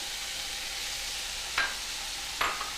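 Finely chopped carrot sautés in a soup pot for Macedonian lentil soup, a steady hissing sizzle with two brief stirring scrapes toward the end.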